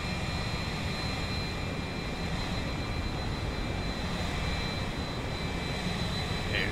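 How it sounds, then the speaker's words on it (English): A jet aircraft in a flight simulator roars steadily and loudly past, a dense continuous engine drone throughout with no talk. "Airplane, better not be a bad guy."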